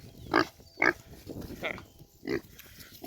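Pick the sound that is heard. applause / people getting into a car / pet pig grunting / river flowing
pet pig grunting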